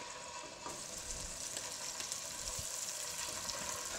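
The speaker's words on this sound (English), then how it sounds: "you can hear right away that the oil's ready" Scallops seasoned with salt and pepper sizzle steadily as they go into hot oil in a pan, a broad continuous hiss and crackle, close and fairly quiet, with no talking.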